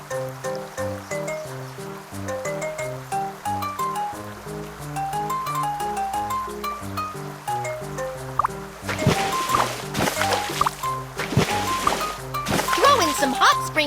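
Water splashing in a Baby Panda bath game, bright drips and bubbly gurgles over steady cartoon background music, growing busier and louder in the second half.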